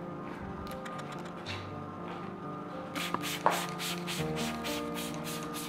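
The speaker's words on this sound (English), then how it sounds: "I'm spraying distilled water to the poster to help it expand" Distilled water is sprayed onto a linen-backed 1954 Bazooka bubble gum comic sheet. A run of short, quick spritzes from a spray bottle comes close and fairly soft over a steady low background hum.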